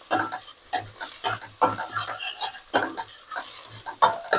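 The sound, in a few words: stirring frying onions in a pan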